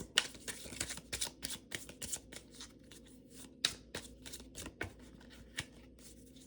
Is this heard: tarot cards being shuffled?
yes